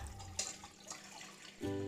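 Water is poured into a wok on a gas stove, heard as a short gurgle with faint splashes and then a stronger rushing pour near the end.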